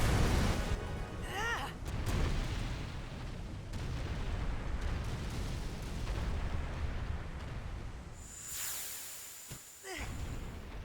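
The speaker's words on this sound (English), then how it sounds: "Run across a falling fire building. That is for some reason exploding." A burning, collapsing building explodes in Final Fantasy X, a sustained rumbling roar with crackling fire and a whooshing burst near the end, loud and close.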